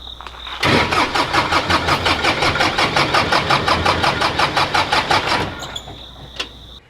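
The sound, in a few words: skid steer loader engine cranking, trying to start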